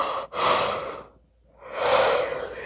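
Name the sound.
yawning during yoga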